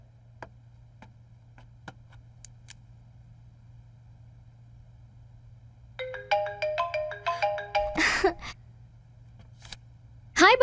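Mobile phone ringtone plays a quick melodic run of tones, loud and close, after several seconds of faint ticking and quiet background, with a short burst of noise in between.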